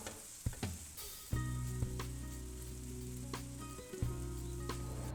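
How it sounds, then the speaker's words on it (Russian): Onions frying over medium heat in a pan for a cabbage pie filling, a steady close sizzle running throughout with a few sharper crackles and stirring knocks. "Выложите лук на сковородку и обжарьте на среднем огне до прозрачности."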